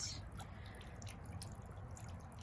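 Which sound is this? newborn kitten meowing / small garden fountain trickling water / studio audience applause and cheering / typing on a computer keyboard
small garden fountain trickling water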